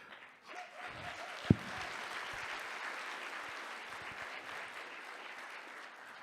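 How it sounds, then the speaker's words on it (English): A crowd applauds steadily for several seconds, a broad wash of clapping with one sharp thump near the start. "Another hand of applause."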